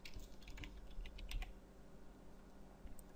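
Rapid, uneven keystrokes on a computer keyboard, clustered in bursts during the first half and thinning out afterward, close and fairly quiet.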